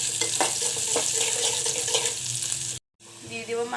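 Chopped onion fries in a pan with a loud, steady sizzle and occasional stirring scrapes; the sound cuts out abruptly for a moment before the hiss resumes.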